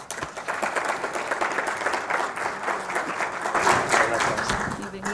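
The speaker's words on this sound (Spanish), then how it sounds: "recibimos también con un fortísimo aplauso a Guillem Recolons" A conference audience in Quito gives a speaker strong, sustained applause as he takes the stage, a steady dense roar of many clapping hands that swells slightly near the end.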